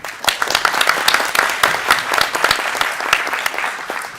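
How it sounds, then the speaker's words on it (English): A conference audience claps after the speakers, a lively burst of many hands with distinct sharp claps standing out, loud and sustained throughout. "A round of applause."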